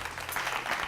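Faint studio audience applause on a French television quiz show, a soft continuous patter of many hands heard at a distance, low in level and without clear individual claps.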